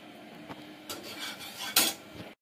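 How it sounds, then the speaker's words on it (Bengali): Utensils clink and scrape against pans in a home kitchen while roti is being made, with soft rubbing and a couple of sharper metallic clatters, close and fairly quiet, no voices. "এই যে রুটি করা চলছে"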